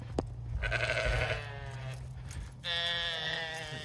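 Sheep bleating on a farm near feeding time: two drawn-out, wavering bleats, one early and one later, fairly close and loud over a low steady background hum.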